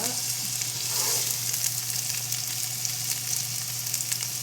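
Food fries in hot cooking oil, with a dense, continuous sizzle and crackle, close and even throughout, and a low steady hum beneath.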